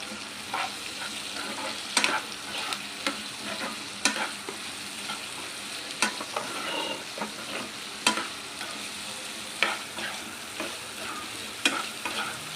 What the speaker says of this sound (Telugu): 1/2 స్పూన్ అల్లం వెల్లుల్లి పేస్ట్ వేసి బాగా ఫ్రై చేసుకోవాలండి